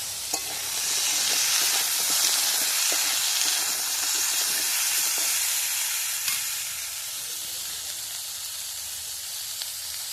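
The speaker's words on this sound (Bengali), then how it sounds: "আর একটু ভেজে নিই, তারপরে আমি নামিয়ে নেব।" Mixed vegetables fry in a pan, a steady, close sizzling hiss lasting throughout with occasional small clicks of stirring, fading slightly toward the end; no speech.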